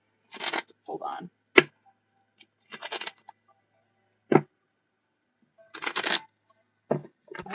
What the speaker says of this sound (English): Why is it so hard to shuffle?